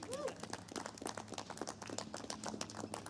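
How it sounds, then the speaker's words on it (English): An outdoor audience claps at a NAIDOC Week smoking ceremony, a brief, fairly faint patter of many hands at an even rate. "you can give him a clap there."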